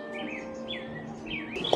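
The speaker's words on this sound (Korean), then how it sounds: "어디서 새소리가 자꾸 나가지고 찾아봤는데" A small bird chirping inside a tropical plant greenhouse at an arboretum in Sejong, Korea, three or four clear, rising and falling tweets, close and bright, over a faint steady hum.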